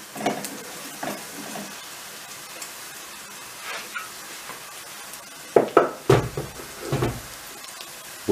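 Chopped potatoes go into a pan of frying tomato paste and oil for barbunya pilaki. Scattered scrapes and stirring clatter build to a cluster of louder pan knocks near the end, over a faint sizzle.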